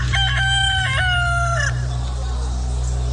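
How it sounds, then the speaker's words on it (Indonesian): A rooster crows once, loud and close, in a long bright call set over a steady low hum of background noise during a Good Friday church service. "Seketika itu juga berkokoklah ayam."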